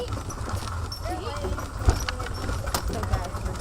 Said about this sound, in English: So we're being pulled by Bob and Dick, the new horses